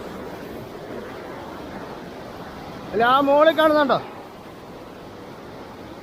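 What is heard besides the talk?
waterfall rushing water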